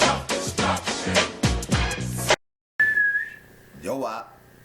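A short whistle to call a dog comes as one sustained tone followed by a brief rising-falling note, heard after a stretch of loud music with a drop to silence in between.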